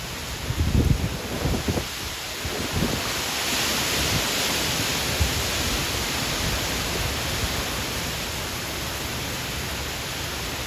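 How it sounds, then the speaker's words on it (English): Heavy rain from Hurricane Melissa pours down in St. Elizabeth, Jamaica, a dense, steady roaring hiss close by, with a few thumps and rustles early on, then an unbroken downpour to the end. "A lot of rain, man, a lot of rain, a lot of rain."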